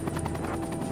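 Huey helicopter with thick 44-foot main rotor blades, a steady throbbing rotor chop with a low droning hum, brief and moderately loud with no talk.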